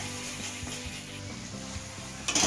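Masala spices frying in oil in a pan, a steady close sizzle with faint stirring scrapes, rising slightly louder at the very end.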